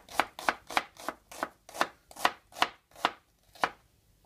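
A knife slices an onion on a cutting board while preparing Lebanese sautéed okra: about a dozen crisp, evenly spaced cuts in a steady rhythm, close and clear, with no talking.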